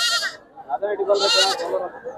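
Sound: goat kids bleating

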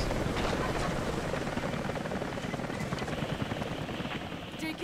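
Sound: helicopter in the video game Rise of the Tomb Raider

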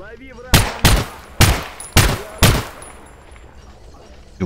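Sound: sniper rifle gunfire in video game Stalker GAMMA

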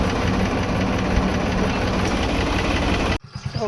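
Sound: tractor engine running

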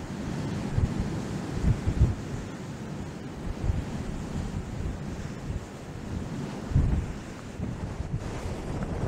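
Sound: strong wind on the moor

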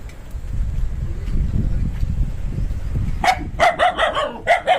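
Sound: dogs barking on a buffalo farm

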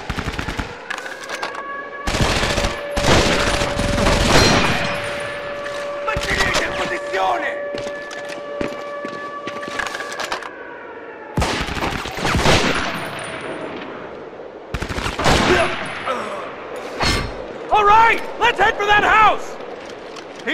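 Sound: MG-42 machine gun fire in video game Medal of Honor Vanguard

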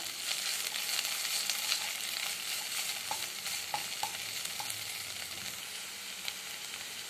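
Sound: stir-frying vegetables with ginger garlic paste in pan

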